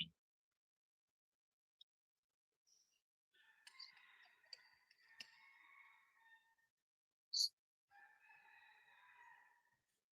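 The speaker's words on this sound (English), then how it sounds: "could you hear the chicken roaring?" A rooster crows twice in the distance, each call a drawn-out, warbling cry of a few seconds, quiet against near silence, with a few faint clicks between them.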